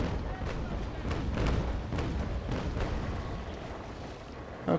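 Broadside cannon fire from a sailing warship in the naval battle game Naval Action Legends, a steady run of dull booming thuds and rumbling low-end blasts rolling together over several seconds.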